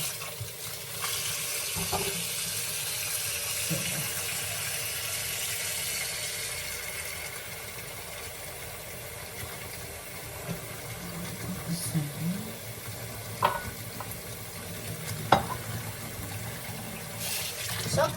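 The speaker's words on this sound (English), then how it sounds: "Now we have washed the veggies" Tap water runs steadily while vegetables are washed for slow juicing in a kitchen sink. The flow is fairly loud at first, then thins out, with a few light knocks and splashes near the end.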